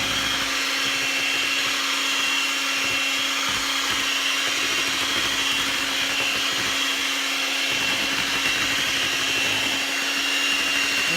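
An electric mixer whips thickening cream for herbal butter, giving a steady, loud, unbroken whine throughout with no voices.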